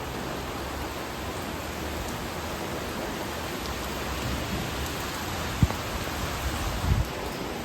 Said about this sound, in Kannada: ಸಿಕ್ಕಾಪಟ್ಟೆ ಮಳೆ ಫ್ರೆಂಡ್ಸ್